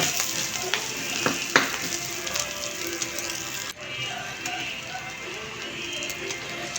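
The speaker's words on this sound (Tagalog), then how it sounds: "Ayan yung bawang, igisa natin." Garlic sautés in a pan for pork giniling, a close, rain-like frying hiss with a few sharp stirring clicks early on, then a steadier, slightly quieter sizzle after a brief dip.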